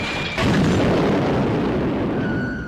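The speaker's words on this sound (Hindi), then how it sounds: "पाकिस्तानी साइबर जेट्स ने भारतीय ठिकानों पर बमबारी शुरू कर दी" Bombs dropped by fighter jets on army positions in a war documentary effect: a heavy, loud booming explosion that swells suddenly and rumbles on with a long roaring tail.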